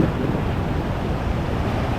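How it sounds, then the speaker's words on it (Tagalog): Steady, roaring wind buffets the microphone over a broad rush of surf at sea, whitecapped waves offshore, continuous and loud throughout with no voices. "malakas ang hangin, namumuti yung mga alon niya doon"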